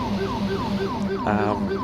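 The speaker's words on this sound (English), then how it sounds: "the siren pack that I downloaded for NYPD is also carried across over to the ambulances" In GTA, a loud, close wailing ambulance siren from an NYPD siren pack sweeps rapidly up and down in a repeating yelp pattern, with a brief honk-like blast cutting in near the end.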